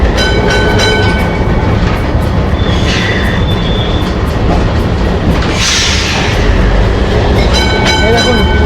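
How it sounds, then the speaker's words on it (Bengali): A Kolkata tram rumbles steadily along its rails, heard from on board, with continuous low rolling noise, faint clicking, and brief high screeches partway through; voices murmur faintly in the background. "ট্রামে করে যাচ্ছি আমরা"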